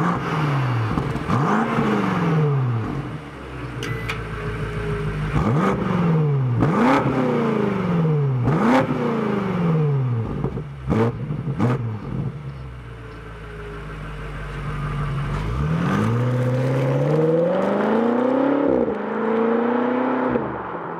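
A BMW X5 M Competition V8 revs repeatedly outside, its exhaust rising and falling in a series of sharp blips, then settling into a lower rumble before one longer, climbing rev near the end.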